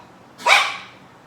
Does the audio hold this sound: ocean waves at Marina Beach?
no